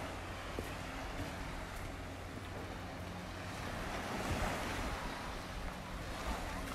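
Waves wash onto the beach of a bay in France, a continuous broadband surf rush mixed with wind buffeting the microphone, swelling slightly louder toward the end, with no voices.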